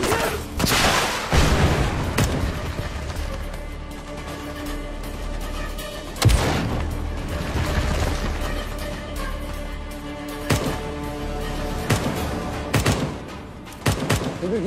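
A war series battle erupts with continuous automatic gunfire and heavy booms, including a loud rocket blast, with strong impacts around the middle and additional sharp bursts later, all dense and close.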